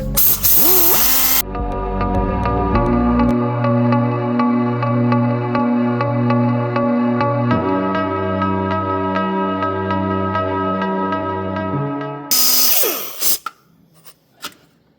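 Angle grinder grinding down a welded repair on a grey Ferguson tractor gearbox casing, a loud, steady, close metallic whine that drops in pitch partway through and cuts off near the end, with no talking.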